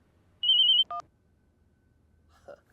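Telephone ringing indoors in a short comedy scene: one brief electronic trill of rapid beeps followed by a short tone, then quiet, with a faint sigh-like voice sound near the end.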